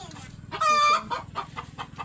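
Pet hens around egg-laying time give a loud, close burst of clucking and a short crow-like call, then a string of quieter clucks.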